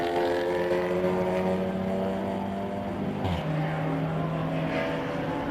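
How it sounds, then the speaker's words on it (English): Racing cars in a club enduro championship at Snetterton circuit roar past on the start-finish straight, a dense sustained engine drone with a pitch drop partway through as one car passes close by, no talk. "So, cars come past us on the start and finish straight."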